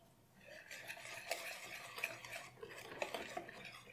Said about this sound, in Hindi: मिक्स करेंगे।